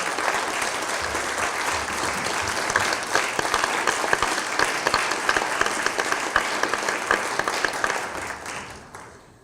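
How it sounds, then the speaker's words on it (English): A standing crowd at the UNA-USA annual business meeting gives a loud, dense round of applause that holds steady for several seconds, then tapers off at the end. "So if everybody could please stand in a round of applause."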